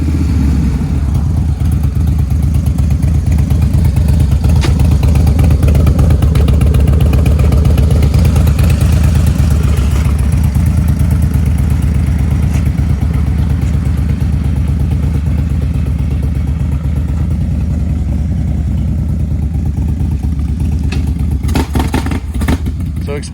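A 2017 Harley-Davidson Dyna Lowrider S with reverse runs loud and close, its engine rumbling steadily throughout with a deep, continuous throb, while people talk over it.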